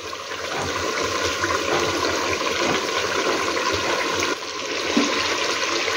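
Water pours steadily into a pot of mutton and potato curry, a continuous loud splashing gush lasting several seconds with a brief dip in the flow.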